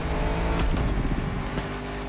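A Lamborghini engine in The Crew Motorfest racing game, loud and shouty, a steady close engine roar with slight revving swells throughout, no talk over it.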